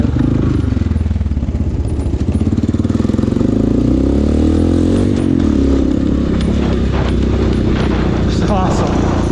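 A Honda dirt bike engine revs up and pulls away, a loud, steady close-up engine roar with rising pitch that holds through the whole stretch.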